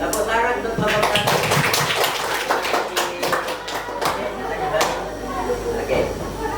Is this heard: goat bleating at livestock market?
no